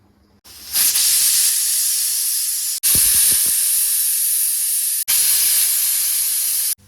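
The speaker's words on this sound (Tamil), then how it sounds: "மூணு விசில் விட்டாச்சுங்க." A pressure cooker boiling potatoes on a stove lets off loud, sustained steam hissing whistles, three long blasts separated by brief cut-offs, close and dominant with no speech.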